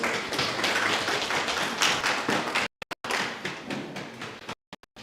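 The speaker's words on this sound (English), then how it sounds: "Please give him another round of applause." Audience applause at a business summit, a dense, steady wash of many hands clapping for about two and a half seconds, then broken by abrupt silent gaps before resuming.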